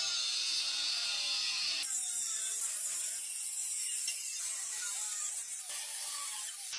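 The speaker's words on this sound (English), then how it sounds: "use an angle grinder to cut off the excess" An angle grinder cuts excess off an angle-iron strip, producing a continuous loud, harsh high-pitched grinding screech with a few abrupt shifts in tone as the cut progresses.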